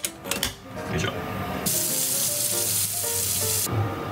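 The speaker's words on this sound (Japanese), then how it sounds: "お湯切ってこのまま入れていきましょう" Hot water being poured off boiled lentils into a sink: a sustained rushing splash of draining water after some brief clatter, loud and close.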